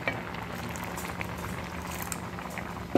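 Kalakand mixture of milk simmering in a pan, giving a steady, soft bubbling and light crackle throughout, close by with no talking.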